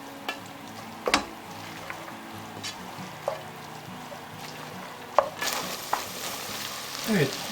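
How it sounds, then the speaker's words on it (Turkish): Pistachios and almonds stir-roasting in a pan, with soft scraping and intermittent light clatter as a utensil moves through the dry nuts, plus a faint sizzle; close and fairly quiet, no voices. "Sürekli olarak karıştırarak kavuracağım."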